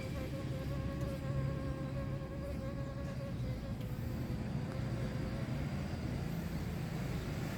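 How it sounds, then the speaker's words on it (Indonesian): Bees buzz around blooming garden flowers in the morning, a close, continuous droning hum with shifting pitch over faint background noise. "Lebah ini setiap pagi datang."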